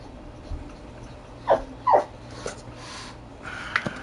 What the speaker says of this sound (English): we're trying to make sure our dogs are behaved